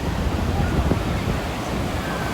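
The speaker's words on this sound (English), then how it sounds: "the surf is good enough to have competitions in. So the waves are big." Loud, steady roar of ocean surf breaking at Huntington Beach during a surf competition, a continuous broadband wash with wind buffeting the microphone and no distinct individual wave crashes.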